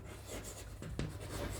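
Chalk or marker scratches across a classroom board during a maths lesson, a short run of close rubbing strokes with a brief tap, heard alone and without talk.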